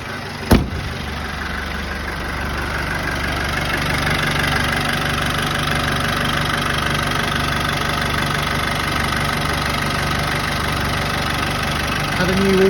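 Land Rover Defender 200tdi diesel engine fires up with a sharp start, then settles into a steady, slightly knocking idle that carries on evenly for several seconds.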